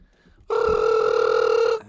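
A telephone rings once, a loud electronic ring burst lasting just over a second, alone and close.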